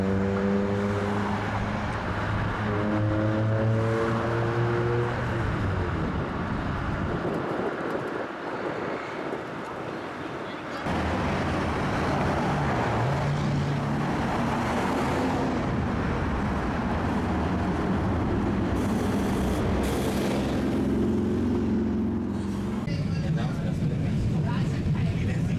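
A vintage double-ended streetcar runs along the Embarcadero in San Francisco toward the Caltrain station, rumbling and whining continuously up close with wind noise and shifting motor tones, while people talk throughout.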